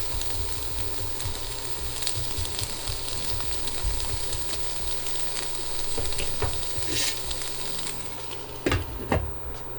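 Onions and peppers fry in a skillet with a continuous, close sizzle and crackle, briefly marked by a few stirring clatters, and no one speaks.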